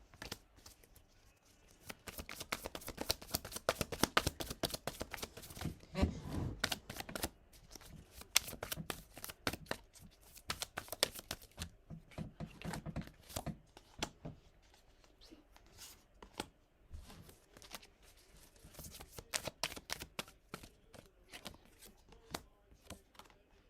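Tarot cards being riffled and shuffled in long, dense bursts of rapid flapping clicks, close and fairly crisp, with pauses between rounds.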